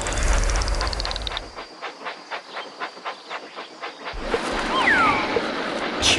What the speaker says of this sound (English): Clear the tracks! Engine coming!